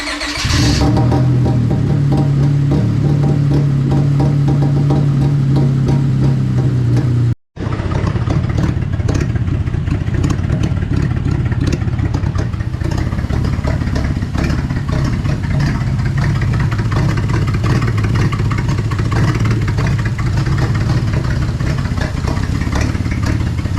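A V6 Honda Civic with deleted catalytic converters and open downpipes cranks and fires up, then settles into a loud, rough, choppy idle with low rumbling pulses, heard close up and alone for over twenty seconds.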